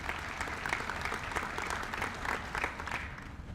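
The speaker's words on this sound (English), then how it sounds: "Let's give them a round of applause as well." Audience applause at an Essex County Freeholder meeting, a fairly quiet, steady patter of clapping from a modest crowd lasting a few seconds.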